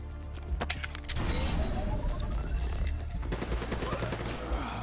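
Rapid gunfire in the Black Ops 3 campaign: a few sharp single shots, then dense automatic bursts with crashing impacts and heavy low booms, continuing loud throughout.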